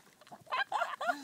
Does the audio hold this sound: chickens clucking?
yes